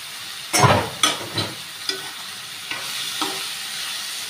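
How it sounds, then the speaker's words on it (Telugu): Small fish frying with ginger garlic paste in a pan give a gentle sizzle, broken by a few close scraping stirs that grow softer and sparser as it goes on. "అల్లం పేస్ట్ బాగా వేగిన తర్వాత నెత్తలు వేసుకోవాలండి."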